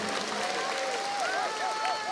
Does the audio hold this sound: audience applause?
yes